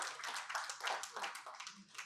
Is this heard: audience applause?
yes